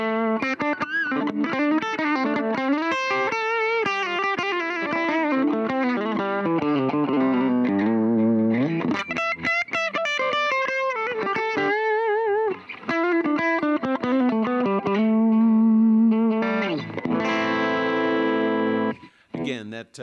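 Distorted electric guitar on a P90 bridge pickup of a 2015 Les Paul Special Double Cut, played up front with a bright, biting tone, strummed chords and single-note lines running continuously with barely a pause.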